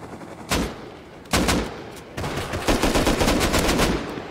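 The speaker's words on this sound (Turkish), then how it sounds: "Patlayıcı mermi attı sanki." Explosive ammo gunfire in the video game Rust: sharp loud bursts, two single blasts then a rapid volley of shots, close and punchy with rumbling tails.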